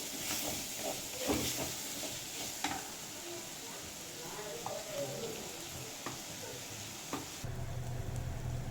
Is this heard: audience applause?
no